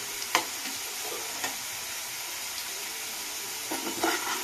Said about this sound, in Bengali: এখানে আলুটা লাল লাল করে আমার ভাজা হয়ে গেছে